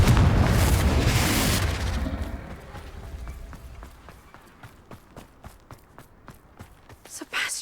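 A Confringo fire spell explodes in Hogwarts Legacy with a loud blast that fades, then footsteps tap in a steady rhythm through the rest of the scene.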